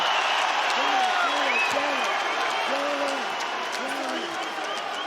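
Crowd noise at an MMA fight, a continuous roar of cheering and clapping with voices calling out over it as the action unfolds.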